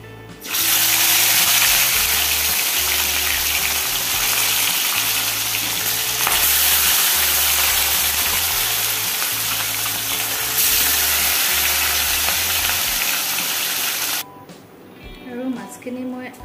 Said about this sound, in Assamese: মাছৰ মাথা ফ্ৰাই কৰিম